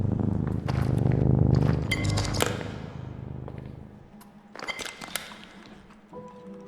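A low, rumbling cat purr sits under scattered clicks and clinks, loudest at the start and then fading somewhat.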